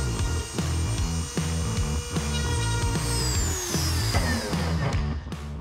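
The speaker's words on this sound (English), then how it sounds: "So now I'm gonna take my Dremel rotary tool." A Dremel rotary tool with a burnishing head runs against a leather edge to melt in wax, making a steady, close, high-pitched motor whine with a rhythmic pulsing underneath throughout.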